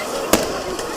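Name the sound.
fireworks at midnight New Year celebration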